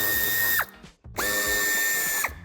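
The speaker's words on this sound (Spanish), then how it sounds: "quitaremos los tres tornillos que sujetan el paragolpes. También son tornillos de Torx de 25." A power tool whirs steadily as it removes Torx 25 bumper screws on a Škoda Octavia III, with two runs broken by a brief stop and a pitch drop at each release.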